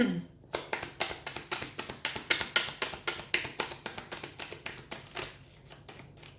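Tarot and oracle cards being shuffled by hand, a rapid, even run of crisp riffling taps that is close and steady, then slows and fades toward the end.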